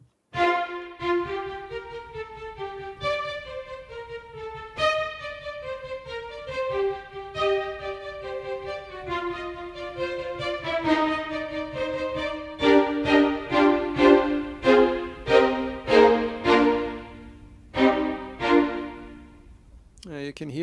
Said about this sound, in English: So let's listen to the staccato.